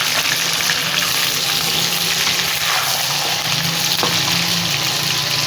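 Chopped tomatoes fry hard in a pan for chicken shinwari karahi, giving a loud, steady sizzle that runs without a break, close up, with no talking.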